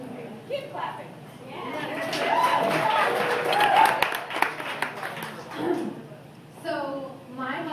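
Audience applause and clapping for a comedian as she takes the stage, building to a sustained roar of many hands in the middle before thinning out; a few voices and speech come through at the start and end.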